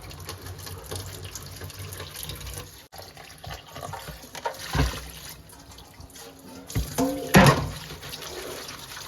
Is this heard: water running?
yes